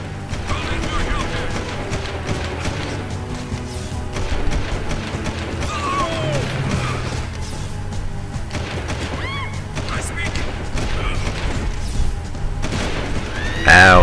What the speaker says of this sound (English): And they're shooting the pedestrians.